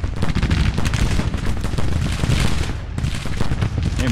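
Dismounted cavalry in Grand Tactician: Civil War open fire in a dense, continuous crackle of rifle shots, with mid-distance booms rolling under the volley; no voices.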